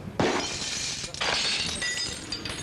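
Car side window smashed in during a roadside armed robbery, a sudden loud shatter of breaking glass followed by a second burst of crunching, tinkling shards over about two and a half seconds.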